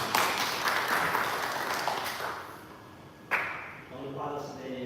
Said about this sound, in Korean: 하느님 아버지께 박수.